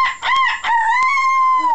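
A voice imitates a rooster crow, a loud drawn-out cock-a-doodle-doo with stuttered opening notes, close to the listener.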